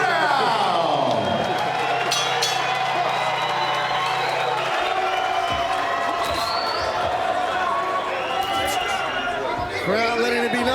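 Boxing arena crowd cheering and applauding during the tenth and final round of a bout, a broad roar of voices and claps that persists under a ringside commentator talking throughout.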